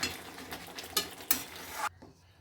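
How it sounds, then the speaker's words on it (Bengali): A spoon stirring an egg and spinach dish in a pan, a few close scraping strokes over a light sizzle, ending abruptly after about two seconds, with no talk. "এবার আমি জাস্ট একটু হালকা হাতে নাড়াচাড়া করে আমি সার্ভ করে দেবো।"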